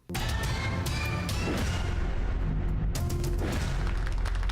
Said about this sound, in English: prepare for the warning shots